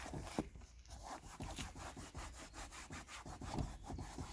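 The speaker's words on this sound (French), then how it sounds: "Une brosse pour bien brosser, pour bien nettoyer le tissu" A brush scrubs fabric back and forth during cleaning, making rapid rhythmic rasping strokes close up and fairly quiet, with no voices.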